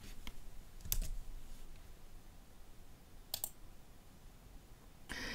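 Computer keyboard keys and mouse clicks while someone edits page text, coming as a few sharp isolated clicks and short bursts at a quiet, close level with no talking.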